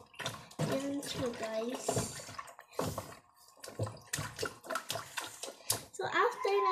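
Water spinach stems being washed in water at a kitchen sink, a continuous splashing wash running under steady, close conversational talk with a voice joining in.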